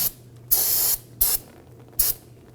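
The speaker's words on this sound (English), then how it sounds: "I like to go ahead and start with some spray solvent." Three separate bursts of spray solvent cleaner hiss from an aerosol can beneath a 2015-2020 Ford F-150 2.7L V6 truck. Each burst lasts a fraction of a second, close and sharp, with quiet pauses between them.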